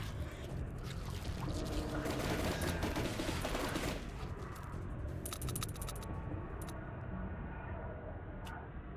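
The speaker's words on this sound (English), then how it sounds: "Gunshots." Rapid bursts of gunfire in the video game Constantine crackle through a dense, noisy mix, with a heavy volley in the first few seconds and scattered sharp shots afterward.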